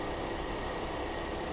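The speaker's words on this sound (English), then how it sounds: "She's running a little rough though" A Ford Explorer with a 25,000-mile engine, low on coolant at a salvage auction yard, idles with a steady, dense engine rumble and faint roughness, continuous and close with no talk.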